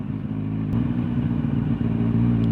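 Kawasaki Z1000 SX motorcycle engine held at high revs against the rev limiter, a loud, close, steady buzzing drone with faint stuttering cut-outs, no voices.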